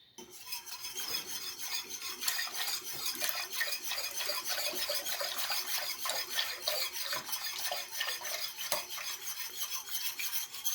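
A warm mixture of two milks for frozen yogurt is stirred in a saucepan off the heat, with steady, rhythmic scraping and rubbing strokes repeating throughout.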